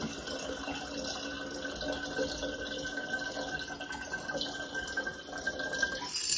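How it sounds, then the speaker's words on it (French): About a litre of water pours steadily into a bowl sitting on a kitchen scale, making a continuous close splashing trickle that holds roughly even throughout, with no talking. "il faut verser 1000 g d'eau dans le bol"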